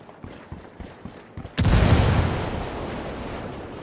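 A frag grenade explodes in Ghost Recon Wildlands after a few faint footstep-like taps, a close heavy boom that rolls on as a broad, sustained rumble for about two seconds.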